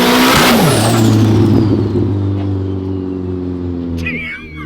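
Nissan KA four-cylinder engine on a dyno, rising to a loud, close rev and then dropping back into a steady, droning idle with a hiss at the end; no one speaks.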